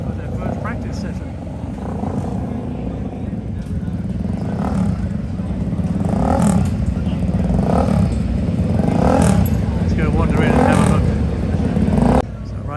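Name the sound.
Southern Honda 500cc racing motorcycles heading out onto track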